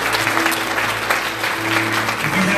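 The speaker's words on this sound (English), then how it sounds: "Give the Lord a hand clap of praise." A church congregation gives a hand clap of praise at a Sunday morning service: sustained, loud group clapping under a held organ tone, with no voices over it.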